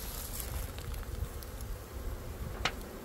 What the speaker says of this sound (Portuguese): Mas tá um enxame forte.